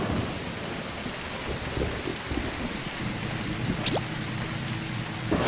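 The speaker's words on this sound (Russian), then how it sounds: "Какой сильный дождь." Heavy rain pours down in a dense, continuous hiss, steady and loud throughout with no voices.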